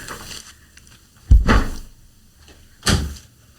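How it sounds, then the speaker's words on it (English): A door is handled and opened indoors, with a loud thud and rattling clunk in the middle followed by a second solid knock a moment later, close and unaccompanied by talk. "Wait, I gotta open the door."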